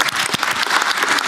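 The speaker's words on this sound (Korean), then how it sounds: "축하 박수 한번." A short burst of audience clapping at a Korean business meeting with small-business leaders, a steady, dense patter of many hands for just over a second, loud and close.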